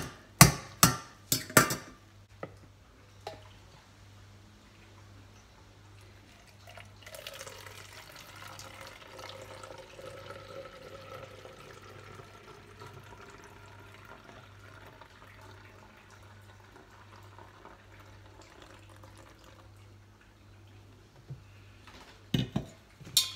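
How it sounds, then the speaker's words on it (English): A tap runs into a container while a garlic wash for slug and snail control is mixed, a steady pouring rush under a low hum, framed by a few sharp knocks and clatters at the start and end. "Well, there we go, my garlic wash."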